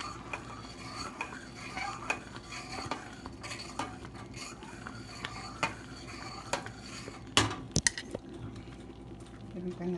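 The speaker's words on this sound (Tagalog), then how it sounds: "Halo lang siya." A spoon stirs an almond mixture with crushed almonds in a bowl, giving soft scraping and occasional clinks of utensil against the dish at close range, with light background noise and a few sharper knocks.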